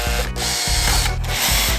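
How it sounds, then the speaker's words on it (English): A power tool or ratchet tightens a nut onto a bolt on a Ford GT350 front bumper, loud and close, running in steady mechanical bursts with brief breaks between them. "I'm tightening a nut onto the back of that bolt that I just threaded into there"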